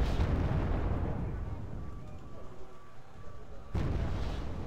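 Bomb dropped by an F-117 Nighthawk in the video game WarGame AirLand Battle, heard as a heavy rumbling blast that opens loud, fades to a low roar, then a second sharp explosion bursts in near the end.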